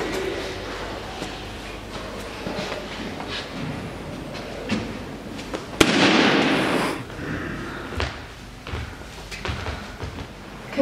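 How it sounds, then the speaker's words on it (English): A champagne cork pops sharply midway, shot at balloons, followed by a burst of bright crackling noise and crowd-like bustle, over steady background chatter and ambience. "All you have to do is pop the bottle at the balloons"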